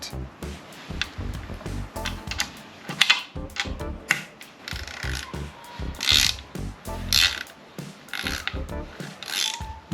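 A wrench tightens a scooter wheel, producing repeated ratcheting clicks and clunks in uneven bursts, heard up close.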